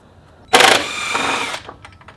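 A power tool whirs in a short, loud burst of about a second while loosening the top bolts of a coilover shock on an R56 Mini, starting abruptly up close and then tapering off.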